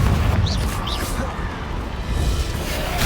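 A Confringo fire spell bursts in Hogwarts Legacy with a deep, rumbling boom that rolls through the whole moment, loud and close, with faint higher crackles above the low roar.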